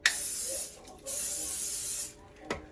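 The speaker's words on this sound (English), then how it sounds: "What I'm gonna do is spray down this waffle maker." Two bursts of cooking spray hiss onto a mini waffle maker, each lasting about half a second to a second, close and fairly loud, followed by a short clack near the end.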